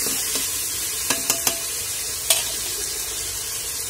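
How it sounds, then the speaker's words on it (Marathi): Vegetables and tomato are stirred into onion frying in a pan for a spiced rice dish, with a steady close sizzle and a few sharp spoon scrapes and taps against the pan. "कांदा छान परतला आहे, तर आपण ह्या सगळ्या भाज्या घालून घेणार आहोत आणि त्यासोबतच टोमॅटोही घालून घेणार आहोत"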